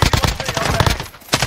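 Rapid automatic gunfire in a first-person shooter video game, loud and close, a fast burst of repeated shots with a short pause near the end before another shot.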